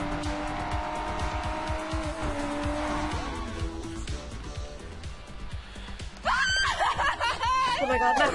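Racing car engine in the Sleeping Dogs video game drones steadily with a rising whine and tire squeal, then gives way to louder mixed game sounds near the end.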